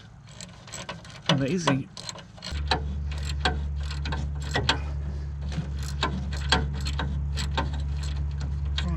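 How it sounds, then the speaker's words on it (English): A hand ratchet clicks in quick repeated bursts while loosening a bolt on a fire-damaged air-cooled Volkswagen, close up over a steady low hum, after a short spoken word at the start. "bolt's coming loose like it was never in a fire"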